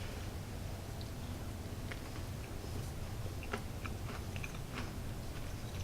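Close chewing of a bite of hearty buttered banana oat bread, soft crunchy mouth sounds and small clicks over a steady background hiss, no talking.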